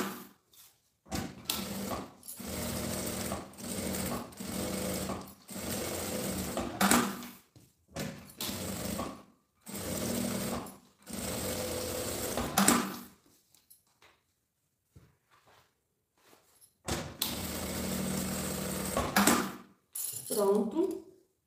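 An industrial sewing machine stitches in several bursts of rapid mechanical whirring, separated by short pauses and soft handling clicks, with someone talking at times.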